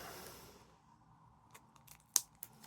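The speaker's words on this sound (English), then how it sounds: "So, it's very tough tape. Let's just cut it." Knife or blade cutting through tough packing tape on a mail package, heard as a few sharp, close snips and scrapes in an otherwise quiet room.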